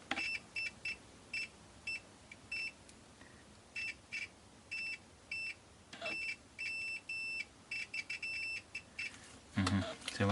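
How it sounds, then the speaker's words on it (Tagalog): An EX470 True RMS multimeter's continuity buzzer sounds in short repeated bursts, some quick and some held longer, fairly quiet against a faint background hiss. "pangit nung tunog ng buzzer."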